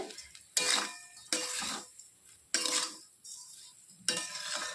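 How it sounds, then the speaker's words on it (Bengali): A spoon scrapes through grated coconut and sugar in a pan as a sweet filling for patishapta is mixed, giving four loud, close scraping strokes with short quieter gaps between them and no talking. "এখন চিনি আর নারকেলটা ভালো করে মেশাতে হবে"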